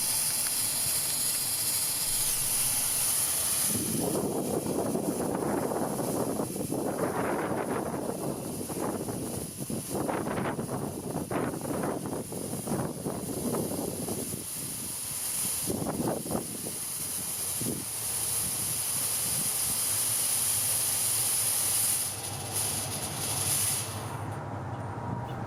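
A Theefun 4000 watt fog machine with wireless remote and RGB lights pumps out fog in a steady broad hiss that starts after a few seconds, swells and sputters in bursts for around twenty seconds, then tails off, over a constant background whine.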